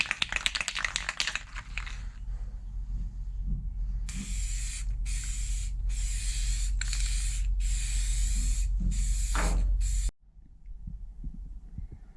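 A spray gun lays clear coat onto a restored Ford OBS truck fender in several long, loud hissing bursts separated by brief pauses, over a steady low hum that cuts off abruptly near the end.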